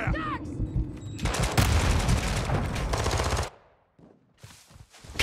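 Rapid automatic gunfire from Call of Duty: Modern Warfare II Remastered rattles loudly in dense bursts for a few seconds, then cuts to near silence with faint muffled thumps and a final rising burst.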